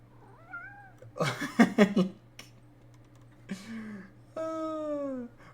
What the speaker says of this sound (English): But do they have two cats that are just absolutely adorable?